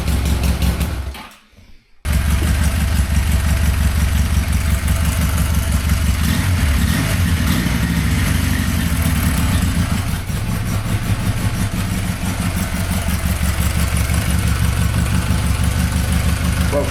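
A refitted Honda CD200 motorcycle engine catches after a short pause and settles into a loud, steady idle with fruity exhausts and a slightly rattly cam chain, running close and continuous.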